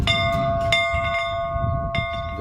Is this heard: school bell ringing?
yes